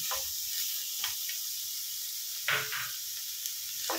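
Vegetables frying in a pan for a hotel-style veg kolhapuri curry, giving a steady, faint broadband sizzle with a few brief louder crackles and stirring bursts, with no voices.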